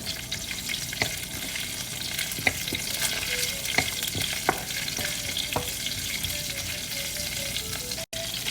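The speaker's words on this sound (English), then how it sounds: "I'm going to add in my green chili, ginger, and curry leaves. I'm going to give it another saute a little bit." Green chili, ginger and curry leaves sauté in a hot pan, giving a steady frying sizzle with scattered crackles and pops, with no talking.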